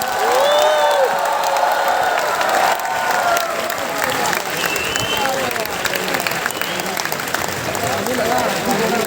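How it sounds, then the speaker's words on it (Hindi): Audience applause at a college fine arts event, loud sustained clapping mixed with cheers and whoops from a crowd, with voices and shouts mingled in throughout. "भाई ताली बजाओ, मेहनत करो."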